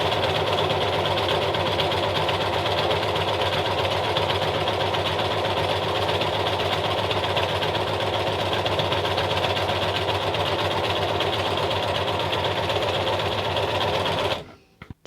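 An overlocker stitching medium-weight fabric runs at a constant loud mechanical whir with rapid rhythmic needle ticking, steady for about fourteen seconds before stopping abruptly at the end.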